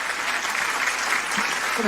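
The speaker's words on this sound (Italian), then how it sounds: "applausi" Steady applause from a studio audience during an Italian radio and TV show, a dense, even patter of clapping that holds for about two seconds with no voices over it.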